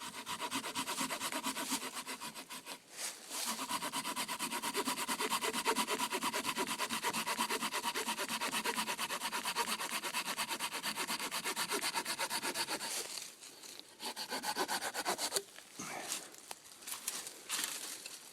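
An Opinel folding saw cuts through a piece of poplar wood in rapid, rhythmic rasping strokes, close and continuous, with short pauses partway through and near the end.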